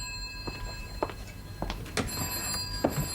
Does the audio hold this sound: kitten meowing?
no